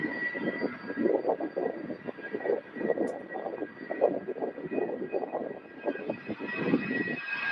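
A Boeing 767 at Louisville airport gives a steady, fairly distant roar of jet engines with a constant hum, holding at moderate level throughout with no voices.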